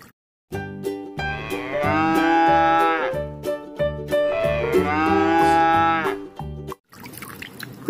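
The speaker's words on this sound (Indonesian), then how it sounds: "kalau yang ini sapi" Two long, loud moos from a cow close by, each drawn out for a couple of seconds, with short clicking noises between them.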